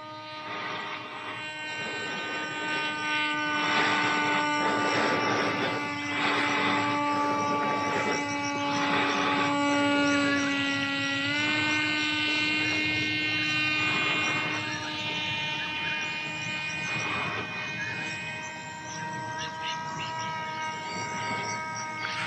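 An FX-61 Phantom flying-wing RC plane buzzes overhead with a steady high-pitched electric motor whine that rises and bends in pitch as it passes, continuous and moderately faint against outdoor breeze.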